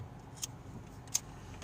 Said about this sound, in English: That's why it sounds like that. It's on the defrost.